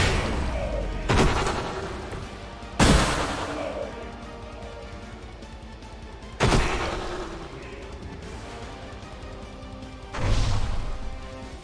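Explosions in the video game Marvel's Midnight Suns come as four loud, separate booming blasts spread across the stretch, each fading into a rumbling tail, with no speech.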